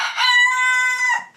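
A chicken in a cold winter coop gives one loud, drawn-out call lasting just over a second, close and alone with no talking.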